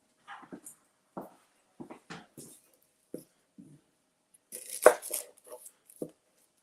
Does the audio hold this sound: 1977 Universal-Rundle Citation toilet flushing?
no